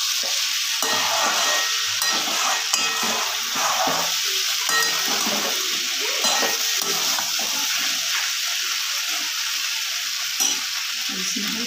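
Green chilies stirred into okra masala on a hot pan, a steady close sizzle and frying hiss with intermittent spoon scrapes throughout, no talking.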